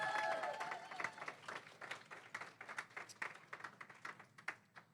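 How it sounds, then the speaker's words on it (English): An audience at a reception claps in dense, irregular bursts, a lively round of applause that gradually thins and loosens as it goes on. "can we have a round of applause for that?"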